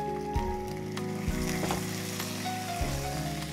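Marinated chicken frying in a pan with fried onions on top, a steady close sizzle with faint clinks over a low hum, no talking.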